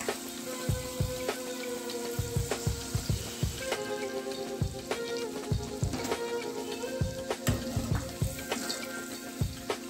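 Palm fruit fritters (taler bora) deep frying in hot oil, a continuous crackling sizzle with frequent sharp pops and bubbling bursts, close and fairly quiet, with no voices.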